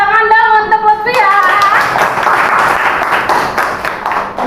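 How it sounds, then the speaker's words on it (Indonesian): A classroom of students claps for a classmate, a steady burst of applause that follows a brief sung or voiced tone and holds evenly near the listener. "tepuk tangan dong untuk Lutfi ya"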